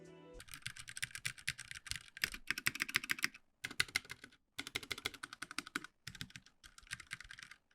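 Fast typing on a Kitu Mini computer keyboard, close and fairly quiet, with dense clusters of crisp keystrokes split by short pauses into several bursts.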